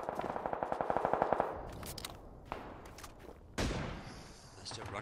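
Rapid automatic gunfire in the video game PUBG, a fast run of sharp cracks at the start followed by scattered single shots and louder bangs, heard under players talking.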